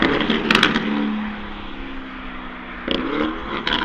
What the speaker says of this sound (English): this is the best and loudest V8 that the guys have heard over here